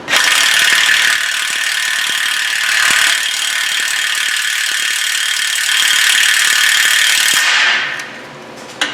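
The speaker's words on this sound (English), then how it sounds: "Let's see if the whole bolt's turning now." A hand ratchet clicks rapidly and steadily for about seven seconds while turning a bolt during clutch replacement on a Mazda Miata MX-5. The close, loud mechanical rattle stops abruptly near the end.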